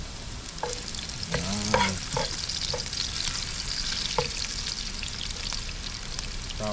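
Garlic sizzles and crackles in hot oil in a pan while being stirred, a steady close frying hiss with scattered scraping strokes; a voice briefly speaks.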